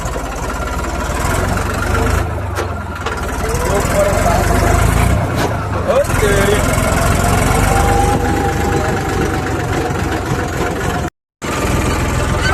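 A Massey Ferguson 8055 tractor engine runs steadily at about 1000 RPM in a farm field, a loud, low, continuous drone close by, while people talk over it.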